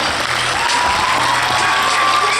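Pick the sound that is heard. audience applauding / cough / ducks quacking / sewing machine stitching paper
audience applauding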